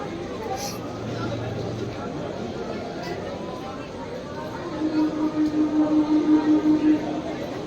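A train arriving at a station platform: a steady low rumble of the train fills the clip, swelling into rhythmic pulsing near the end, with a faint tone and distant platform noise underneath.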